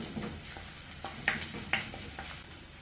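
Onion, crushed ginger, crushed garlic and green chilli sauté in a pan under a steady, quiet sizzle, while a spoon scrapes and taps the pan at irregular moments, close by.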